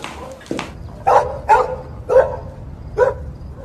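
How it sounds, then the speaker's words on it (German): Neighbours' small dog yapping from a nearby yard, one sharp yip followed by four evenly spaced barks of moderate loudness over a quiet background. "Das ist der Hund der Nachbarn."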